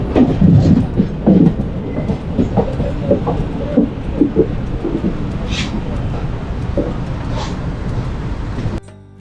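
Steady rumble of the Palaruvi Express with irregular clanks and clatter, plus a couple of brief high squeals, heard from inside a sleeper-class coach entering Thrissur railway station.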